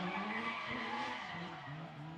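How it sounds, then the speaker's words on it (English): A Nissan 350Z drift car at a competition short shifts, its engine note rising and dropping amid tire squeal and skidding, heard faintly from a distance. "You can hear Riley short shifting there."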